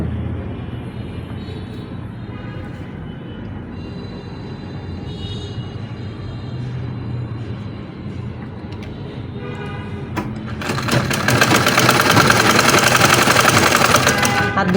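A sewing machine stitches the elastic waistband of boys' pants with a steady mechanical whir under faint talk, then speeds up into a louder, denser buzzing run near the end.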